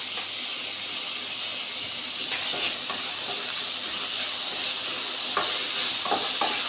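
Tomato frying in a pan for a simple chicken curry, giving a dense, continuous hiss of sizzling oil with a few faint stirring scrapes, close and steady throughout.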